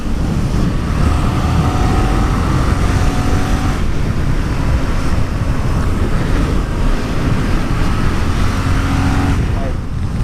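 A 2018 Yamaha MT-07 entry-level street bike ridden on a road, its engine drone heard steadily through heavy rushing wind noise, with no break in the roar.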